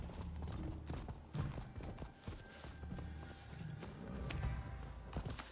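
A horse in a video game clip-clops along in a quiet, uneven run of hoof taps and thuds, faint and somewhat distant, with soft background noise.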